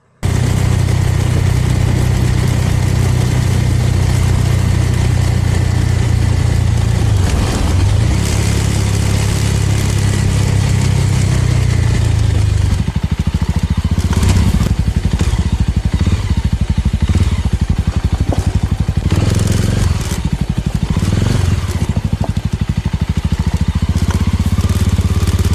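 Motorcycle riding around Lake Poso in Sulawesi, Indonesia, its engine droning loud and close throughout with steady rumble, shifting revs and heavy wind noise.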